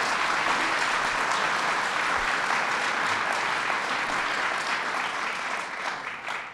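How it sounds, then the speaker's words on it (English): A large audience applauds Mayor Byron Brown at a political event launching a fair pay campaign, broad sustained clapping that stays loud and even before easing slightly near the end. "Let's give him a round of applause, Mayor Byron Brown"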